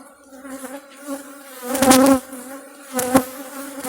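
Honeybees buzz steadily close by at an opened small nucleus hive, a droning hum that swells loudly twice before settling back.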